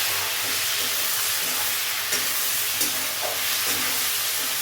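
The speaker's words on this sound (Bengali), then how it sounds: "এবারে তেলের মধ্যে পেঁয়াজটা দিয়ে দিচ্ছি।" Sliced onions dropped into hot oil in a pan where eggs have just been fried, giving a steady loud hiss and sizzle throughout with a few faint clicks, no talk.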